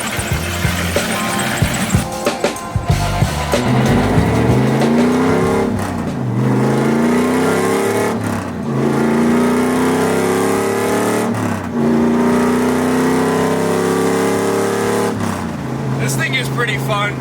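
An old pickup truck with about 300,000 miles drives on the road, its engine droning loudly and rising in pitch through repeated gear shifts, with a person talking over it.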